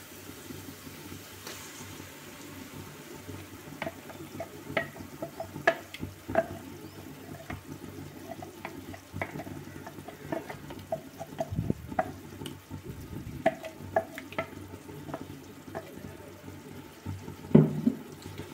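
Masala paste fries in a pan over onions while being stirred, a soft continuous sizzle broken by scraping and clinking of the utensil against the pan, with no talking over it.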